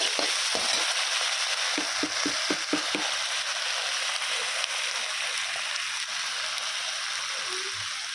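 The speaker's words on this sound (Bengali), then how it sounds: "মশলাটা ভাজা হয়ে গেছে।" Spice paste with salt fries in hot oil in a pan, producing a dense, close sizzle throughout with a quick run of stirring scrapes early on, then a steadier crackling hiss.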